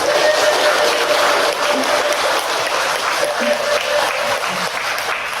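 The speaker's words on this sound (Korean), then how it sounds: "우리 수원지사 다시 한번 박수 한번 부탁드립니다" An audience at a business seminar at a resort in Hongcheon claps in a sustained, dense round of applause that stays loud and even throughout.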